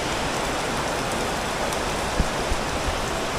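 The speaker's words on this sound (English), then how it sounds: "Big rain." Heavy rain pours down outdoors by a parking area in Angeles City, a dense, even hiss that holds steady throughout, with a few louder drops landing near the end.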